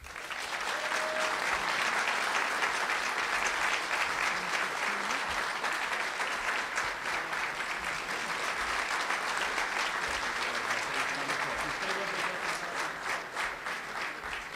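A hall audience applauds Bombardier's Pierre Beaudoin after his speech, producing a thick, even roar of clapping that holds steady and loud from start to finish.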